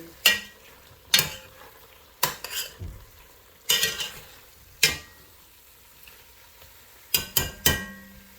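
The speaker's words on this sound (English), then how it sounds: "mix it with the rest of the onions and tomato" Pork being stirred with onions and tomato in a pan, the utensil scraping and clanking against the pan in irregular loud strokes with quieter gaps and a faint sizzle between them.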